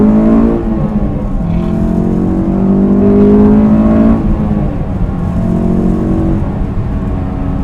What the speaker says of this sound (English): Let's do a little second gear pull, wide open throttle.